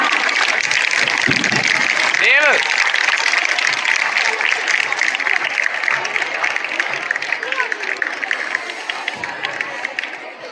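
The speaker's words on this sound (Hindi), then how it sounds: "तो इनके लिए तो डबल तालियां बनती है।" Audience applause at a school annual function honouring a local MLA, a broad steady patter of many hands filling the hall with cheering voices mixed in, loud and sustained before tapering slightly.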